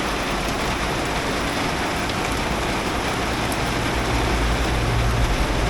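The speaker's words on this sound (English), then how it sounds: "Pissing it down." Heavy rain pours down outdoors in a UK winter setting, a steady, dense, close hiss with a low rumble building near the end.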